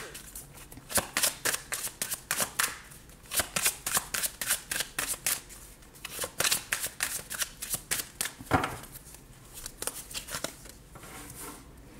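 Deck of oracle cards being shuffled for a tarot reading, rapid rhythmic bursts of crisp card riffling and slapping in several runs with brief pauses, close and fairly quiet.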